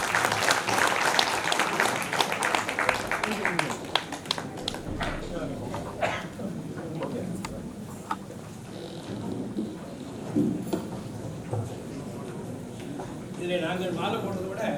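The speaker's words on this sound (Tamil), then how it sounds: "அனைவருடைய கரகோஷத்தோடே நாங்கள் செய்கிறோம்." Crowd applause at an 80th birthday party in London breaks out loudly at first, then thins into scattered clapping, with people talking over it throughout.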